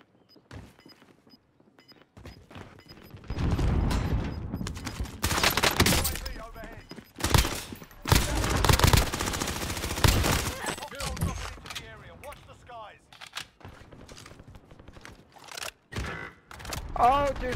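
Bursts of automatic gunfire from an AK74u in Call of Duty Warzone, loud rapid volleys in several clusters with short pauses, a voice talking between shots.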